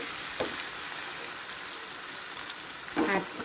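Ingredients for Thai braised pork leg stir-fried in a hot pan give a steady, soft sizzle throughout, with two brief louder bursts of stirring and scraping.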